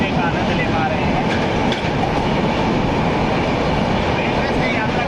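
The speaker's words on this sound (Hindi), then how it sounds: "रेलवे से यात्रा करने का आनंद अपना अलग होता है।" A train on the Konkan Railway runs through the Sahyadri hills, a loud, continuous rumble of railcars and wheels with a steady clickety-clack, heard from on board without pause.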